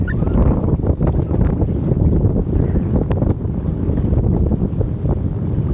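Strong wind buffeting the microphone, a loud continuous roar with gusty rumbling and no voices.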